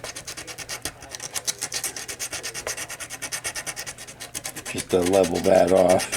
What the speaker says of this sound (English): I might have to do a little bit of sanding to get the extraneous bits of steel stick off of the top of the battery.